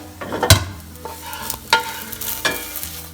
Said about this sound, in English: I like to get my Spam a little bit crispy on the edges.